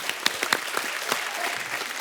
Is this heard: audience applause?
yes